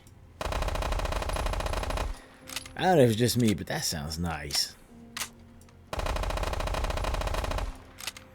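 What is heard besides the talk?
MP5 submachine gun firing in the video game Fallout 4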